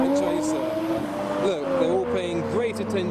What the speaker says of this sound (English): the white Toyota Chaser. Turbo flutters, sounding amazing.